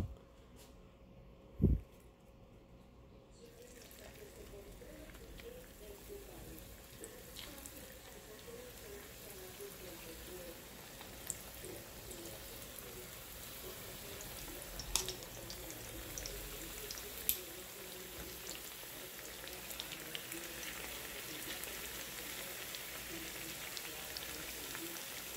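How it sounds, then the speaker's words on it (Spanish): Potato tacos frying in hot oil, a steady soft crackle and sizzle that builds slightly over time, with a few sharp pops and clinks near the start. "El aceite ya está caliente. Voy a empezar a meter los taquitos a que se empiecen a dorar."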